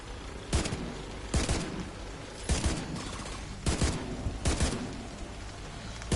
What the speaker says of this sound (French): vous allez voir l'intérêt d'avoir le fusil à lunettes pour dépoter paisiblement